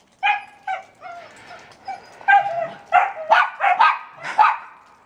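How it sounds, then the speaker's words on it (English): A German Shepherd puppy and other dogs bark close by in a house. Sharp barks and high yips mix with whimpers in an uneven run of loud bursts over about five seconds, with no speech. "I bet you guys aren't enjoying this barking"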